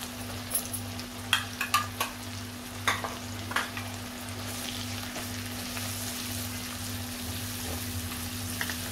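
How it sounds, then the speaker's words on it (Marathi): Spiced onion-tomato masala with turmeric sautéing on medium heat for chavli batata bhaji, a soft steady sizzle with a few stirring clacks early on over a constant low hum, no talking. "मीडियम गॅसवर चांगला परतायचा आहे"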